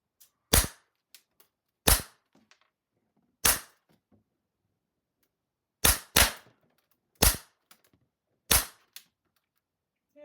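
An airsoft gun fires into a DIY target box, seven sharp single cracks with short ringing after each, spaced irregularly over a quiet background.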